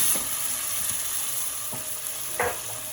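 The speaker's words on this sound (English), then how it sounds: "let that sizzle out a bit" Tomatoes in hot oil sizzling and crackling steadily in a pan, with a couple of brief scraping stirs near the end; no one speaks.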